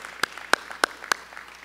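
Four spaced, sharp claps from a small group at a county meeting, short and fairly close with a quiet room behind them.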